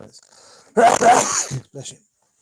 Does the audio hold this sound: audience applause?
no